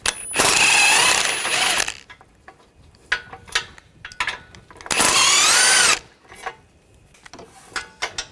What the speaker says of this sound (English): I'm going to take the outer bolt out, use a 15mm socket